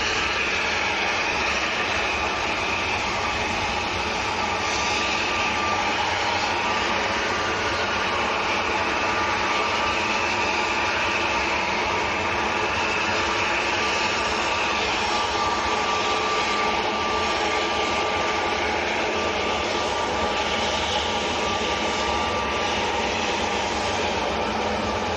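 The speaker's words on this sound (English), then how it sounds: "Next to go, Ryanair to Zadar." A Ryanair airliner departing Manchester Airport for Zadar, a steady loud roar of jet engines sustained throughout with broadband rumble and a faint high whine, no voices.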